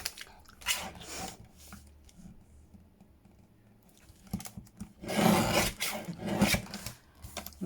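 Book pages being folded in half by hand for junk journal inserts, giving dry papery rubs and rasps, quiet at first and then a louder flurry of creasing and handling toward the end.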